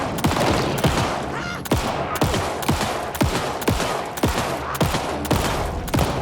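Pistol fire in the Alan Wake 2 video game: about a dozen sharp, loud shots in a steady rapid rhythm, close and dominant over a dense, rumbling game backdrop, with no talk.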